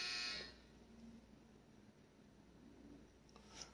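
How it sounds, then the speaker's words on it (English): An electronic buzzer sounds in a brief, bright burst at the very start, then cuts off, leaving a quiet indoor room hum with a few faint ticks. "That buzzer was right on time, wasn't it?"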